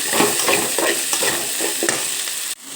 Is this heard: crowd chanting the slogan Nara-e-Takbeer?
no